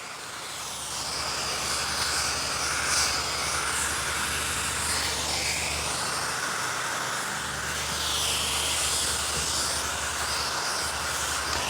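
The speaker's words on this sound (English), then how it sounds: "just steam the sleeve all the way down." A garment steamer hisses steadily and continuously while steaming down the sleeve of a wrinkled suit jacket, a fairly loud, even rush of steam with a low hum beneath and no voices.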